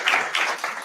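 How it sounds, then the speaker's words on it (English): Audience at a civic panel event with space entrepreneurs gives a brief burst of clapping in a few soft waves, fading quickly. "one more round of applause before she comes back"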